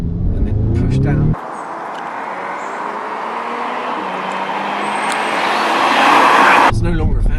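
An Audi S3 revs hard in first gear, its engine note rising steadily and growing louder as the car accelerates, with a brief stretch of speech before and after the run.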